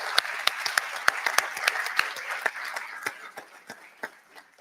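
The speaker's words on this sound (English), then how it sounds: "give yourselves all a round of applause" Applause from an audience at a CEO celebration event, a thick bed of clapping with distinct sharp claps standing out, gradually thinning and fading toward the end.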